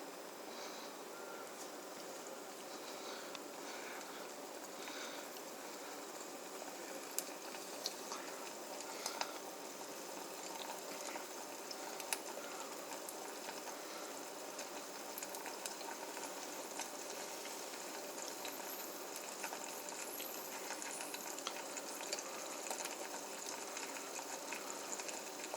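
Butter eggs cooking in a pan over raised heat give a steady, even sizzle and crackle that runs unbroken throughout, close and moderately quiet, with scattered tiny pops and no voices.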